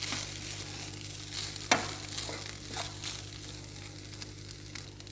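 Cooked rice stirred in a pan for fried rice gives a faint hiss and soft scraping, with one sharper knock of the spoon against the pan, quiet and close, with no voices.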